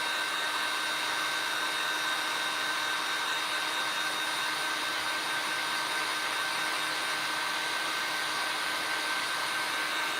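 A hair dryer blows steadily on a freshly painted layer of bright-colored craft paint, giving one continuous, even whir for the whole stretch with no voices.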